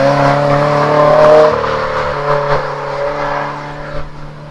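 Car fitted with a sports touring catback exhaust and polished stainless steel tip, giving a steady, loud droning note with strong low harmonics that shifts pitch slightly as the revs change, no voices over it.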